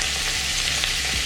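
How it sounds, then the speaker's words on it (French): Onions and tofu fry in hot oil in a pan, giving a steady, close sizzle with soft crackling throughout and no talking. "Une fois que l'huile a un peu chauffé, on va venir mettre les oignons, le tofu."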